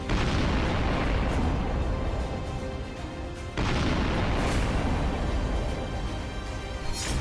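Explosions from attacks in Ukraine: dense, sustained roaring booms and rumbling blasts filling the whole stretch, loud and continuous with a brief break midway, no voices.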